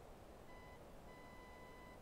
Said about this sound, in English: I can kind of hear a faint beep.